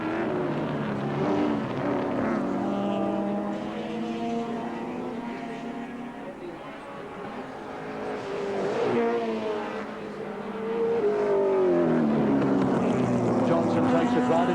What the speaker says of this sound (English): the grunt of the big V8 Holden Commodore shows out again as they come down to Castrol Loop